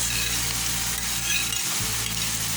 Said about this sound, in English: I'm going to go ahead and add the okra, sliced okra.